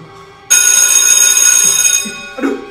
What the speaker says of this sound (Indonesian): Aduh, udah bel masuk guys.